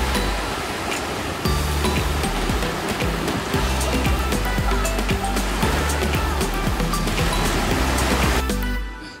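Ocean waves wash onto the beach at Myrtle Beach, South Carolina, a steady loud roar of surf and rushing water with low rumbling swells, continuous throughout before fading abruptly at the end.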